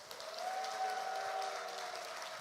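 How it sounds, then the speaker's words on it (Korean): An audience at a church teachers' conference talk concert gives applause welcoming a film director onto the stage, a soft, even wash of clapping with a sustained tone ringing faintly above it. "큰 박수 부탁드리겠습니다"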